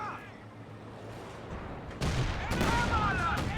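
Battle fire in the Company of Heroes 2 strategy game, with distant booms and gunfire that grow sharper and louder partway through, heard under a commentator's talk.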